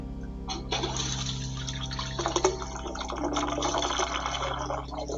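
Water runs steadily around the outside of a tube in a continuous close wash with light splashing and drips, heard alone with no voices.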